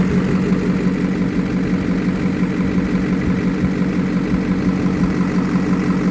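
An LBZ Duramax diesel truck engine, just back from exhaust repair, idles close by in a garage with a steady, loud low rumble and even throb and no talking.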